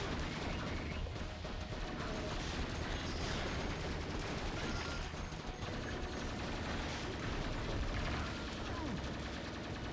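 Machine-gun fire in the game Neon Chrome on PlayStation Vita, dense continuous rattling bursts and explosions filling the whole stretch at a constant loud level, with someone talking over it.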